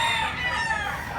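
A rooster crows loud and close in one sustained call, at a gamefowl yard in Consolacion, Cebu.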